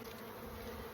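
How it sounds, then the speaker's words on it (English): A close, steady buzz of many honeybees at an open apiary hive during inspection, one continuous droning hum with no talk over it. "there's lots of bees underneath there and on top"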